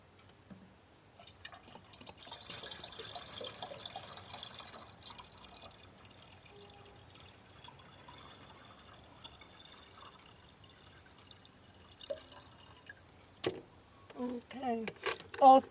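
Water trickles and drips quietly as bottles are filled inside a camper van, a faint, irregular splashing that runs throughout, with a voice speaking near the end.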